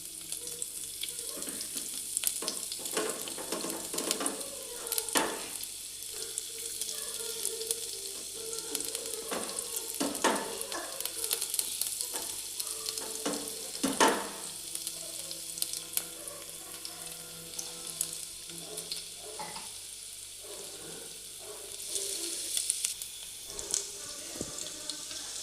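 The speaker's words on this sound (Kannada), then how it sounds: "ನಾನು ಶುಂಠಿ ಒಗ್ಗರಣೆ ಕೊಡ್ತೀನಿ ಮಧುಮಾಲ್ ಮೀನಿಗೆ" Chopped ginger tadka sizzling in hot oil in a clay pot for a fish curry, a continuous crackling fry with stirring knocks and scrapes, close and moderately quiet.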